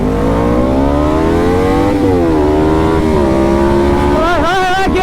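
A dual-cylinder KTM RC 390 motorcycle accelerating hard in a drag run, its loud, close engine note climbing and shifting pitch throughout.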